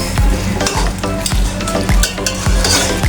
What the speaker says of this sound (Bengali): চামচ দ্বারা গরম গরম এরকম মশলা দিয়ে আপনারা এইভাবে মিক্স করে নেবেন